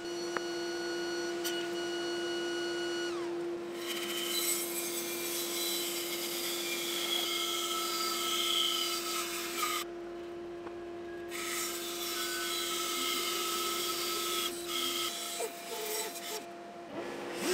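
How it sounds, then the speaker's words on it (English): A table saw works through timber cutting a half lap joint for a stool stretcher, a steady whining tone with rasping cut noise that runs nearly continuously, dropping out briefly in the middle and again near the end. "it's back to the table saw to remove this half of the joint"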